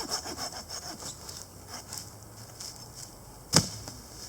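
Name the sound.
hand saw cutting firewood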